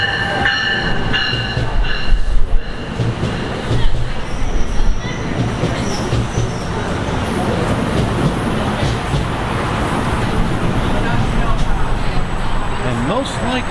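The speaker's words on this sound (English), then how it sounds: "here comes the aforementioned Penn Station train now" A Penn Station-bound commuter train arrives at a New York City station. Its loud rumble and rolling wheel noise build and carry steadily, with a faint squeal near the end and a voice heard briefly over the noise.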